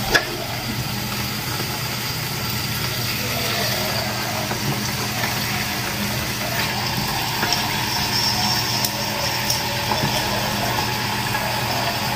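Continuous sizzling and crackling of about 3 kilos of pork frying in hot oil for humba, steady throughout with a low hum underneath.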